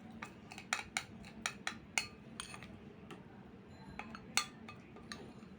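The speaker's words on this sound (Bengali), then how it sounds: "এক চামচ দিয়ে খুব ভালোভাবে মিক্স করতে হবে" A metal spoon stirs a homemade skin paste in a bowl, giving a run of bright, irregular clinks and scrapes close by against a low steady hum, with no talk.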